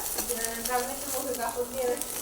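Curry frying in a pan while being stirred, a soft continuous sizzle with scraping strokes, partly under a faint voice and some tonal background sounds.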